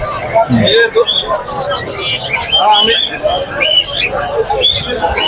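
Many caged birds, budgerigars among them, chirp and chatter together at a pet bird market, a dense, loud, close stream of overlapping calls with people talking over them throughout.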